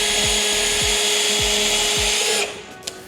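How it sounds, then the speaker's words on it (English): A DEWALT drill bores through a thin pallet plank in a steady, loud whine lasting over two seconds, with a few rhythmic low thumps beneath it, then cuts off, leaving faint handling sounds. "Let's get the drill."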